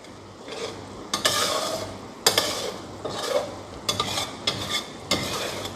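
Thickening syrup for krob khem is stirred in a wok, with repeated scraping strokes of a utensil against the pan and a light sizzling wash, each stroke a close, sharp swish at an uneven rhythm.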